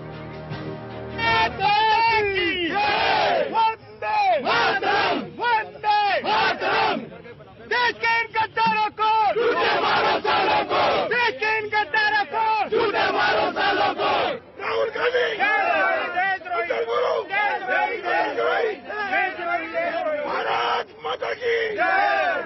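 An angry crowd chanting and shouting in loud, rhythmic bursts, many voices together with brief pauses between surges, close and intense.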